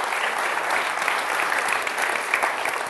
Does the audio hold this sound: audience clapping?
yes